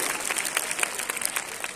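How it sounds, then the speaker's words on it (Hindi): A short burst of loud applause from a room of schoolchildren at a National Mathematics Day event, dense clapping filling the brief moment on its own. "एक बार जोरदार तालियां फिर हो जाए बच्चों के लिए"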